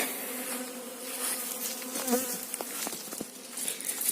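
Many honeybees hum close by at an apiary hive in a dense, wavering drone, with individual bees buzzing past near the listener.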